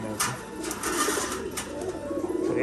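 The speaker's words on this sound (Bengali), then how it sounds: "এই যে পায়রা দুটো বেরিয়ে যাচ্ছে আস্তে আস্তে" Rajshahi pigeons in a loft cooing softly in low, rolling calls, fairly close and gentle, with a few light knocks and rustles around them.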